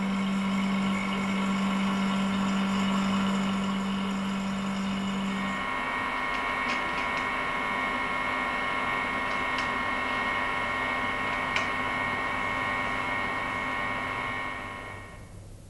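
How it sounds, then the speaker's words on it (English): A VPS 34600 vacuum pump station runs with a steady mechanical drone and low hum throughout, changing pitch slightly partway through, with faint clicks near the end as it fades. "the requisite vacuum must be achieved using our VPS 34600 vacuum pump station."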